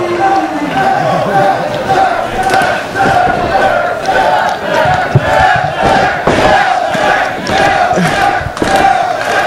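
A wrestling crowd at an independent championship match yells and chants in an uneven roar, with bursts of shouting rising over constant chatter and a commentator talking over the noise.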